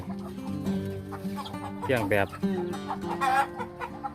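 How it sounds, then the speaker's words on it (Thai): Chickens clucking at a chicken coop on a mixed fruit farm, repeated close clucks and a few louder squawks while a person talks over them. "อันนี้กอกไก่"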